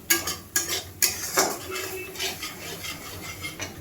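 Masala cooking in a pan with small splashes of water, a spoon scraping and clinking against the metal in quick strokes, loud at first and then a steadier rubbing stir, with no voices.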